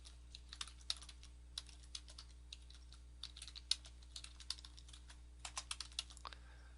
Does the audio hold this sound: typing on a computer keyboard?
yes